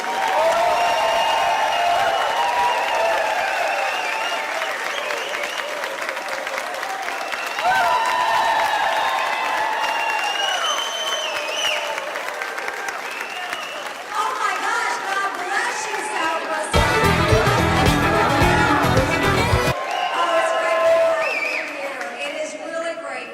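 Crowd applause and cheering at a Trump-Pence campaign rally in Council Bluffs, Iowa, as a senator is welcomed to the stage; sustained clapping and chatter, swelling louder in bursts, with voices over it.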